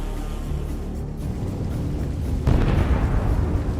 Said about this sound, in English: The explosion was incredibly powerful.